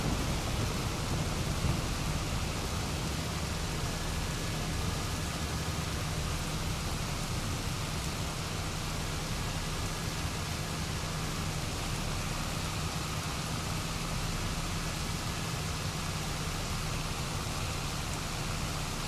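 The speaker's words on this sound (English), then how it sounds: "because it's raining" Steady rain in a farming video game hisses without a break, with a low rumble of thunder underneath; no voices.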